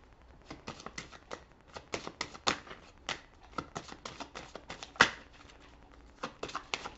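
Tarot cards shuffled in a run of quick riffling bursts, close and fairly soft, with one sharper snap near the end and no talking.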